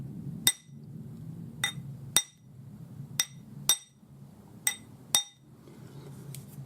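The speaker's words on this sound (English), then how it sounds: "you're just going to keep your eye on the ring mandrel because you're going to hammer until you get to your size" A metal ring is hammered on a steel ring mandrel, giving seven sharp, bright metallic clinks spaced about half a second to a second apart over a low background hum.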